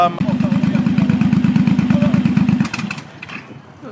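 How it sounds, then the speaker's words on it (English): A big Suzuki motorcycle with a 1.8 litre engine revs hard in a close, loud run of rapid, pulsing bursts, then drops back toward a lower, quieter idle near the end. "he let me rev his amazing big bike"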